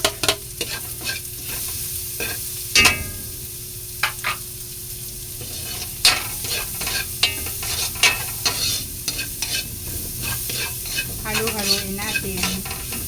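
Chopped onions sizzle and fry in a pan for Filipino batchoy, with a steady hiss under repeated sharp scrapes and clacks of a utensil stirring against the metal, loud and close, no talking.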